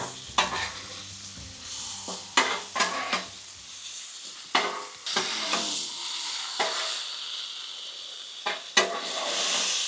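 Shrimp, peppers and onions sizzle in butter on a flat-top griddle, a steady close frying hiss broken by repeated sharp scraping and stirring strokes from a spatula; no talking.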